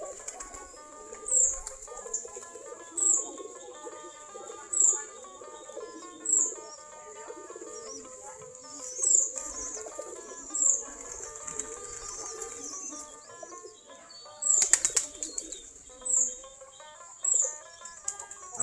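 Domestic native-breed pigeons gathered at their coop after feeding, with repeated bursts of wing flapping and soft cooing and chirps at a steady moderate level, no talk.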